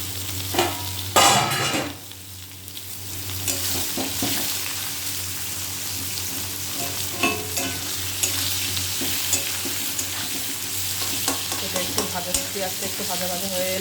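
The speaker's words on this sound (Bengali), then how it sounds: "পেঁয়াজ ভাজা হয়ে গেছে" Chopped onion and ginger sizzle steadily in oil while a utensil scrapes and stirs through the pan, with clinks and a brief louder burst early on.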